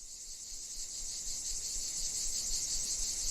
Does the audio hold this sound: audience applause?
no